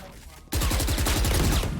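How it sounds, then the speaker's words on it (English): SMG fire in an esports match of a tactical shooter breaks out suddenly as a loud, rapid automatic burst. It runs unbroken for over a second after a quieter start, while a caster's voice commentates. "Oh, nice spam coming from Sova. Ooh, shooting everywhere."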